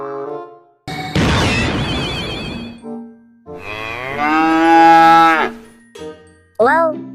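Cow mooing sound effect played for a cow barongan costume act: several loud, drawn-out bovine moos with rising and falling pitch, separated by short pauses, plus a brief jingle near the start.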